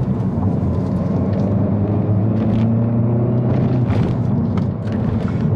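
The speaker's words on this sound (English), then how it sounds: "seem to have tuned it to sound really lumpy, even on idle" Hyundai i30 N hot hatch engine idling with a deliberately lumpy, uneven tune, a steady close low rumble with a choppy, loping pulse throughout and no talk.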